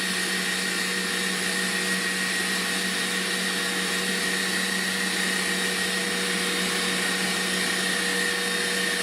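Stand mixer running at top speed 10 while whipping pistachio macaron batter, a loud, steady motor whine with an unbroken tone and no talking.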